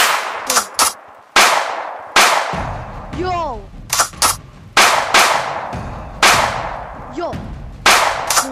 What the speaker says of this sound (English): Why are you pulling out your gun?